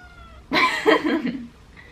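A pet cat named Minou gives a single drawn-out meow, close and clear, fading off after about a second against a quiet room.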